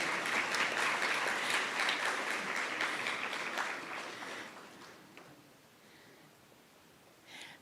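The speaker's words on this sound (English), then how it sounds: "And you're allowed to clap." An audience claps at a university engineering ring ceremony, a dense burst of applause that gradually thins and fades out, ending with a few scattered claps.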